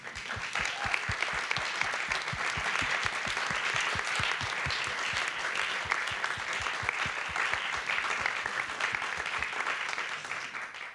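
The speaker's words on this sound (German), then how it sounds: "nochmal einen heftigen Applaus für Sie" An audience at a conference gives strong, sustained applause for the women on stage, dense clapping with a rhythmic low thumping underneath that fades near the end.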